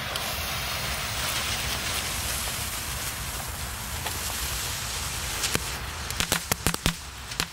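Outdoor crackling rumble builds, then a rapid burst of sharp bangs pops off near the end, loud and close: a 20-centimetre Kalashnikov firecracker string exploding outdoors.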